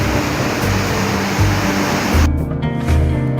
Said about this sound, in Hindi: काली नदी खतरे के निशान से ऊपर बह रही है